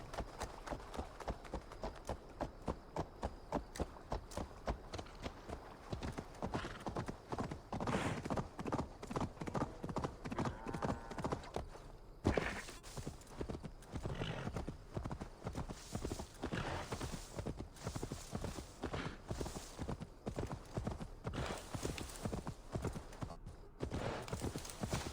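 Horse hooves clip-clop steadily in the Assassin's Creed Valhalla video game, a quick rhythmic trot that continues throughout, with game voices and sounds mixed in over the hoofbeats.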